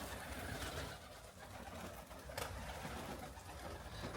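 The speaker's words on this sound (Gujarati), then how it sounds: "સવારમાં છે ને બહુ જ વધારે કબૂતર આજે આવી ગયા છે" Many pigeons coo together in the morning, a soft continuous murmur of calls at a moderate distance with no talking.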